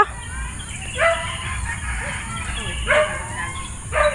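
A stray dog barks outdoors at a moderate distance, three separate barks spaced roughly two seconds apart over a steady hum of insects and background noise.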